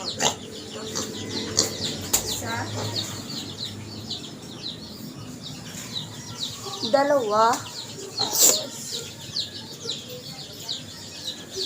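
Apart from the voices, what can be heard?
chickens clucking at feeding time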